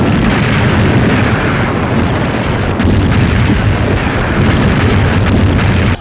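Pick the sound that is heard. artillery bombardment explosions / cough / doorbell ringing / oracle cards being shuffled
artillery bombardment explosions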